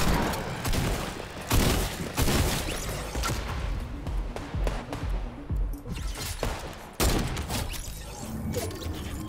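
Rapid bursts of gunfire, loud and close, fill Fortnite gameplay, with sharp shots and thumps firing in clusters and barely a pause between volleys.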